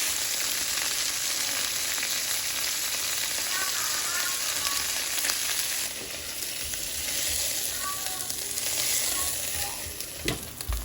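Chicken cooks through in a pan with a loud, continuous sizzle of frying, occasional faint clinks and scrapes over it, and no talking.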